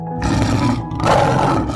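A Cape lion roars close and loud, two deep, rough bursts of breathy roaring separated by a brief dip, heard alone.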